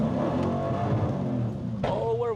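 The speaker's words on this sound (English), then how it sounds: "we're one wheel peeling" Dodge Hellcat on a wet road, one rear wheel spinning as the engine revs hard and steadily, close and loud, with a voice talking over it and a sharp rising squeal near the end.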